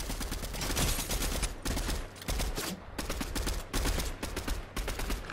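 Rapid bursts of Fortnite gunfire crackle in a steady rhythm, several quick volleys of sharp shots separated by brief pauses, loud and close with no talk over them.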